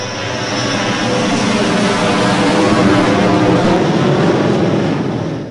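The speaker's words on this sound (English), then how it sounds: "The helicopter comes in, you're fighting the helicopter, which is awesome." Helicopter in the video game Half-Life, a loud, steady, close engine and rotor roar that holds level throughout with no talking.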